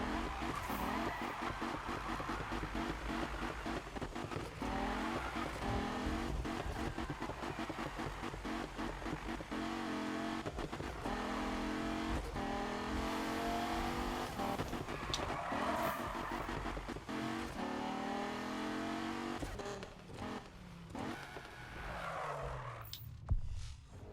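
Racing cars in Need for Speed, a continuous loud engine roar with rising revs, gear shifts and tire squeal through a long race, no talking.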